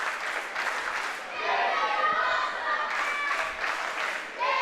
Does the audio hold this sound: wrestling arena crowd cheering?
yes